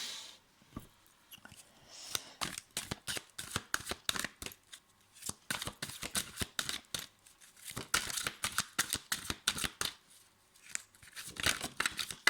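Tarot cards are shuffled close up in quick, crisp riffling bursts with papery slaps and flutters, continuing steadily with brief pauses and no talking.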